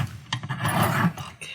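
Prismacolor colored pencils being sharpened, a close, short grinding rasp of wood and lead lasting about a second with small mechanical clicks.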